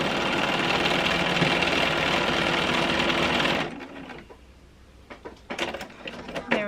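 Sewing machine stitching a strip onto a quilt row, a steady loud whirring run for about three and a half seconds that stops abruptly, followed by quieter light handling clicks and taps.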